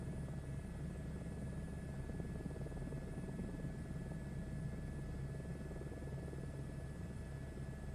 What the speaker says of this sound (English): because everyone likes to hear the helicopter.